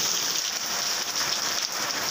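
Rain falling outside a workplace, a steady dense hiss of drops on surfaces, close and continuous with no voices.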